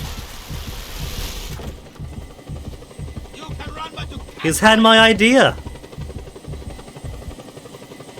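A helicopter in the video game Just Cause thumps with a steady low rotor pulse throughout, under in-game character dialogue that grows loud midway.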